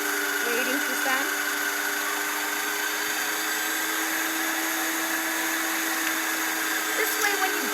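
A motorized grinder chews through raw dog food ingredients in a steady, loud droning whir that holds without a break, close up and with no talk over it.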